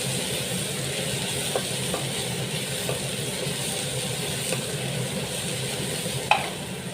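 Ginger and garlic frying in a pot for a Naga chicken curry, with a steady sizzle and a few faint scrapes of a spoon stirring, one sharper clink near the end; no voices.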